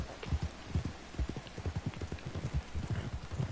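Horse hooves clip-clopping in Red Dead Online, a steady rhythmic trot of soft thuds at moderate distance, continuous and unaccompanied by talk.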